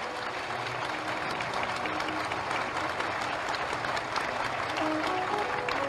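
Sustained rhythmic clapping from a large audience at a Bhagavad katha gathering, even and continuous throughout, with faint voices beneath it.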